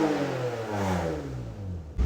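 Toyota MR2 with a 2GR V6 under a pending P0013 camshaft fault, taken to full throttle: a loud, close engine roar that climbs steadily for about two seconds before cutting off abruptly.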